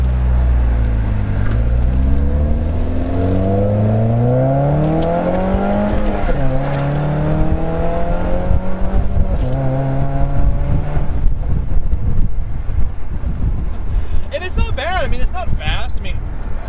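A 2008 Pontiac Solstice SCCA Champion Edition with a 2.4-liter inline four-cylinder pulls away close by, its engine note climbing through the revs in loud, rising sweeps, easing back between gears.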